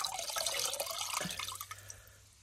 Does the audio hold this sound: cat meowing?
no